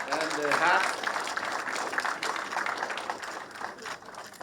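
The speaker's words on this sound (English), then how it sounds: "A hand of applause to His Excellency the President." An audience applauds the President at a university charter ceremony at the National Defence College in Kenya, with steady sustained clapping from a crowd throughout and an announcer's voice over it.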